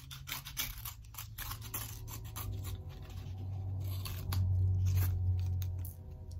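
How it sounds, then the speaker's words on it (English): Scissors snipping excess cardboard while covering a cardboard M4 rifle magazine, a close, quiet series of crunchy cuts and scratchy paper sounds over a steady low hum. "Cut off the excess."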